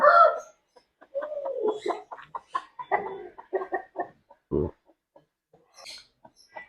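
A Coimbatore rooster calls and clucks in short, irregular bursts, moderately close, with scattered faint background noises between calls.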